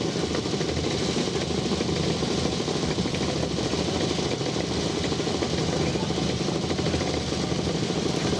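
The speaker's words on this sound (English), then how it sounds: "Maybe there's little James utility, 2 cc's of vintage 2-stroke." A small vintage two-stroke James utility motorcycle engine buzzing along at a rough, steady idle, a constant close drone with no pauses and no voices.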